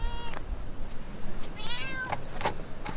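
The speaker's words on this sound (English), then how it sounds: "There's a cat up in that rose bush." A cat up high in a rose bush meows a few times, moderately close, short plaintive cries spaced irregularly over a quiet outdoor background.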